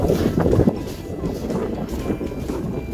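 Steady gusting wind roars across an open microphone on frozen Abraham Lake, a constant low rumbling buffet with no voices, swelling slightly at the start.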